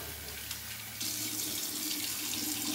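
Near-hot water runs steadily from a tap into a sink, a constant hiss that swells louder and brighter about a second in as the flow increases.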